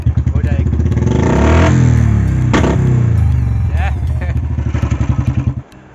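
Royal Enfield Bullet motorcycle revving close up in a Himachal village, engine rising to a loud sustained roar then dropping back to a steady thumping idle, with crackling exhaust pops.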